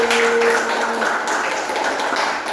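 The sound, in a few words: audience applause for a classroom presenter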